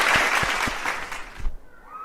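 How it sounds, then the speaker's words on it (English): Applause at an investor relations awards ceremony greets a winner, a thick burst of clapping with a few thumps underneath that fades out abruptly, leaving a quiet hum. "A big round of applause and congratulations."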